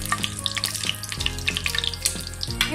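Cloves, bay leaves, cinnamon and cardamom frying in a pan, a steady bright sizzle with crackling pops and occasional clinks, loud and close with no talk.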